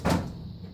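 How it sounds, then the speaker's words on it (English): The front door panel of a GE gas dryer closes with a single short, dull thunk, heard up close and alone with no talk. "We can go ahead and close the front of the door."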